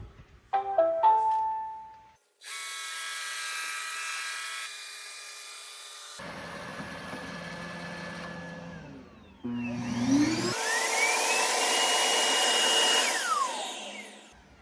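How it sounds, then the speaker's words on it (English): An iRobot Roomba i7+ robot vacuum returns to its base. A few short electronic tones sound first, then a close, steady whirring motor and brush noise that shifts in pitch and loudness as it moves. "now let's send the Roomba home."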